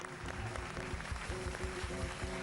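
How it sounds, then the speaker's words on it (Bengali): A studio audience at a televised comedy talent show claps together in a fairly quiet, steady patter of applause heard from a distance, with no speech over it. "জোরে হাততালি সাহেব মাঝির জন্য"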